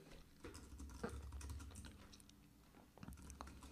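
Someone types on a computer keyboard, producing quiet, close, rapid key clicks in an irregular continuous patter with a brief lull near the end.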